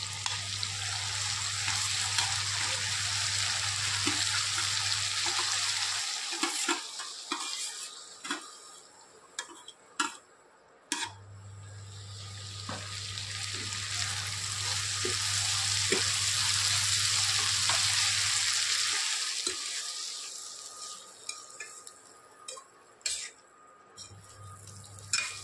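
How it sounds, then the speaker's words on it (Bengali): Fried potatoes stirred into a pan of banana flower and shrimp: a loud sizzle swells and fades in waves, punctuated by frequent ticking spatula scrapes and clinks, with a low hum in stretches. "এবার ভাজা আলুগুলো দিয়ে দিচ্ছি"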